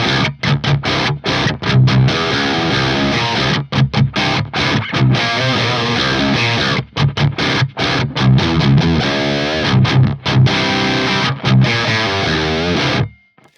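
Distorted modern metal guitar through a Fractal AX8 modeling a 5153 amp with mids cut and bass and treble boosted, playing tight, palm-muted chugging riffs with frequent sharp stops, loud and close.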